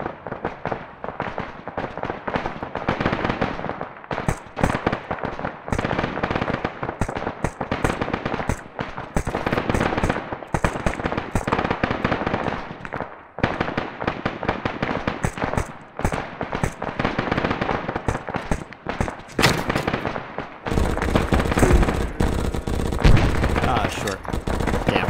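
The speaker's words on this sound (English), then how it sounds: "If you guys are set to engage, start shooting these guys." Gunfire in the military shooter game Arma 3 sounds as dense, continuous rapid automatic bursts and cracking shots, loud and near, with brief gaps throughout.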